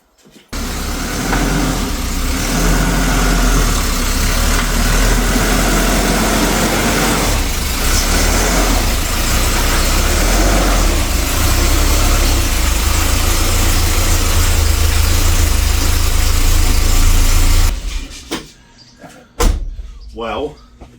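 A Volvo 240 idles loudly and steadily at close range as it creeps forward, a broad rumbling drone for most of the stretch before cutting off into quieter clunks near the end.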